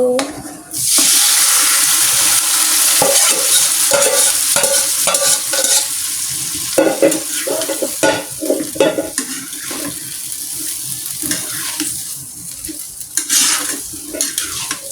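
A pan of vegetable stalk curry being stirred over low heat, with loud repeated scraping and sloshing strokes in an uneven rhythm, close up, no talk.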